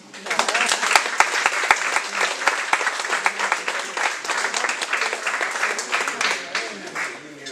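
Audience at a book presentation at a foundation in Isola Vicentina applauding, a dense and sustained burst of clapping from a roomful of people that holds steady and then thins out near the end.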